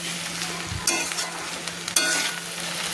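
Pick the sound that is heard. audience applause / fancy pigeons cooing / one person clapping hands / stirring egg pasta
stirring egg pasta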